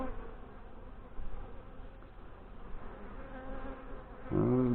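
Honey bees in an open hive with a laying queen buzz in a dense, continuous drone close by, with a brief louder hum at the end as a bee passes near.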